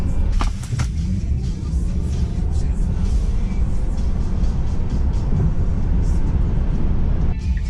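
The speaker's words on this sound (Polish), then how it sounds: "Samochód rozpędza się epicko" A Tesla Model 3 Performance accelerating hard on a public road, a loud continuous low rumble of road and motor noise that holds steady throughout.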